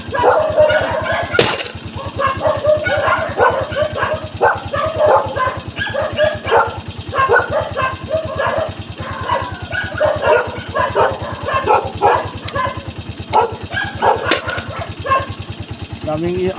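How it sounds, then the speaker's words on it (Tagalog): Many dogs bark repeatedly at night, a steady run of overlapping barks over the low hum of an idling motorcycle engine. "Daming aso dito guys."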